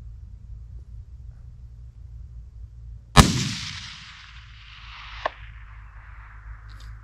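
A single loud rifle shot from a 6mm ARC build firing Hornady 90gr ELD-X rounds outdoors in Washington, followed by a long rolling echo and a faint distant knock a couple of seconds later.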